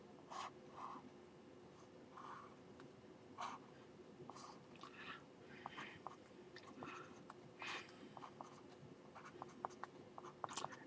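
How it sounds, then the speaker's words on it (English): A pen or pencil scratches across paper, drawing a hexagon by hand in short separate strokes with brief pauses between them, faint and close. "I'm going to go ahead and draw that hexagon."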